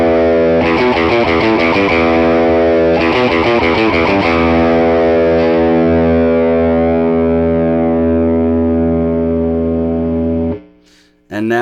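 An overdriven electric guitar plays a chunky riff of repeated chords, then lets a sustained chord ring loud and thick before cutting off abruptly.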